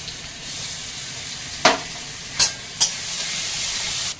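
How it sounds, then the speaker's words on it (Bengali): Cumin seeds with ground onion, garlic and ginger paste frying in hot oil in a kadai make a steady sizzle, broken by three sharp spatter bursts as the paste goes in. "কড়াইতে তেল দিয়েছি, এখন তেলের মধ্যে একটু গোটা জিরে দেবো, আর এখানে পেঁয়াজ রসুন আর আদা একসঙ্গে বেটেছি একটু দেবো।"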